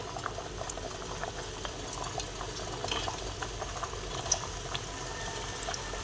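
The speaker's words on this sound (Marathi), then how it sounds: "आता मी ह्याच्यात हे डीप फ्राय करून घेते।" Gulab jamun for chocolate bread gulab jamun deep frying in hot oil, a steady dense bubbling and crackle that runs evenly throughout with small pops, fairly close and moderately loud, no voices.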